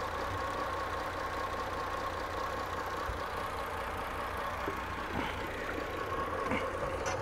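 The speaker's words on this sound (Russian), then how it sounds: "Итак, запускаем мотор." An outboard motor on a NordSilver 655 boat runs at a steady idle, an even low mechanical drone with a faint whine and a few light knocks, continuous and without talk.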